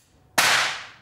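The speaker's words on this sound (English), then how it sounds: "We fired off the bullet." A bullet used in place of a fuse in a vehicle fires from the heat of the wire: a single sharp, loud crack after brief quiet, trailing off in a short fading decay.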